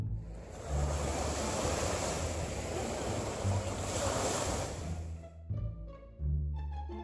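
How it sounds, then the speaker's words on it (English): Ocean waves wash onto a beach in a steady, loud roar with wind buffeting the microphone, then cut off abruptly near the end, leaving a few faint tonal sounds. "Beach."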